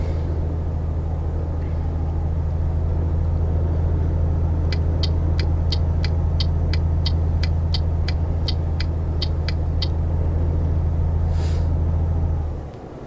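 Truck hauling a trailer in a driving simulator game, a steady loud low engine drone with rhythmic ticking clicks like a turn signal in the middle, fading out at the end.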